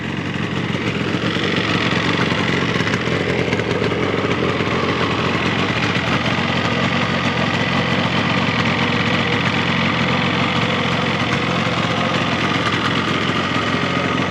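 A cold 1975 Yamaha RD350 two-stroke motorcycle idles steadily and close by, a continuous buzzing, slightly knocking engine note that stays alone and even throughout.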